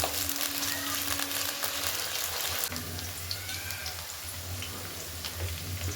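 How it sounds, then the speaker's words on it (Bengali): Cut cauliflower fries in hot oil in a home kitchen, giving a steady, quiet crackling sizzle with light spattering that continues throughout, with no talk over it. "তারপরে ফুলকপি কেটে রাখা তেলের মধ্যে দিয়ে ভালো করে লাল লাল করে ভাজবো"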